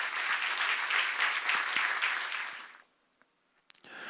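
A church congregation claps during a sermon, a dense burst of applause that fades out and briefly falls silent before a few scattered claps return.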